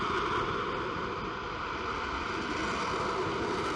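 NASA's Morpheus robotic, self-guided lander, its rocket engine roaring steadily after ignition and throttle-up, a loud, continuous broadband rush with no pauses.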